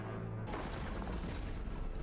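An explosion in the animated film Nimona erupts as a sudden boom followed by a rumbling, crackling roar that lingers, fairly faint overall.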